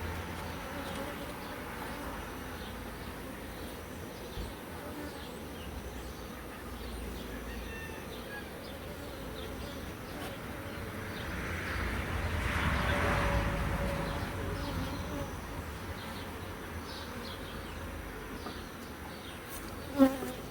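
A honey bee colony hums in a steady, continuous buzz from a mature beehive being readied for transfer to an orchard, swelling slightly louder midway, with no voices.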